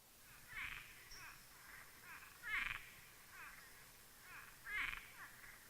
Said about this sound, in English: So when you hear that in your backyard, that's a Cuban tree frog.